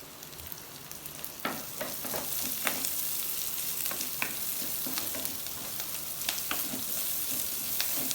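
Kashmiri chili frying in oil in a clay pot, a dense crackling sizzle with repeated scraping strokes of stirring, close and moderately loud, no speech.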